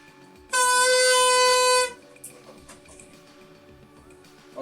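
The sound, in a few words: homemade wind instrument from small PET bottle, played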